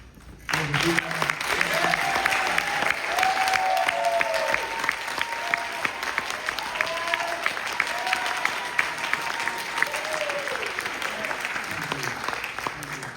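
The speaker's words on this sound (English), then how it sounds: "could you stand up so we can give you a round of applause?" An audience at an honor jazz band concert applauds band directors, a long, steady round of clapping with some murmured voices underneath.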